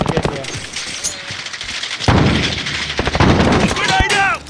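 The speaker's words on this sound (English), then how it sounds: "I hear you shooting people, too." Rapid gunfire bursts and heavy explosive booms from a team deathmatch in Call of Duty: Modern Warfare, loud and close, layered with other battle effects throughout.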